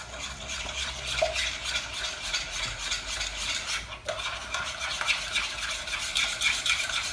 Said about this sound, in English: I'm going to give this a whisk up